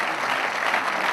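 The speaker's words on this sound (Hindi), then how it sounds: "जोरदार तालियां एक बार।" Applause from an audience at the Ratnawali 2014 event, a brief, dense burst of steady clapping from a crowd.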